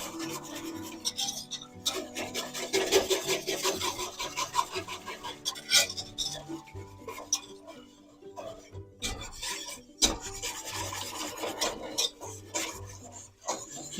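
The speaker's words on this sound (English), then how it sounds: "I'm going to give this a whisk." Broccoli soup being whisked in a pot, with close, uneven scraping and rasping strokes of the whisk against metal, some clinks, and a sharp knock near the end.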